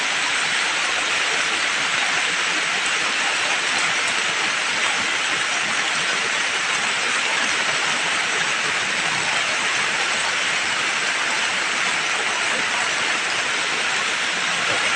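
Heavy rain pours steadily during a summer storm, a loud, dense, unbroken roar of water hammering down on a house with a damaged roof that lets it in, continuous and close for the whole stretch.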